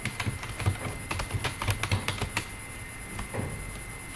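Keys clatter on a computer keyboard as a caption is typed in Microsoft Word: a quick, uneven run of close, crisp taps that slows and thins toward the end, with no voices.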